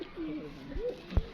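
A Lal Pari pigeon coos close by in a few soft, rising and falling calls, with a sharp knock near the end and no talk.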